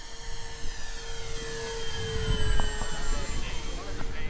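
An Avios KingTwin 1700mm twin-engine RC airplane with flaps set at mid flies overhead, a steady whining engine drone holding throughout with a slight rise midway, heard at moderate distance in light wind.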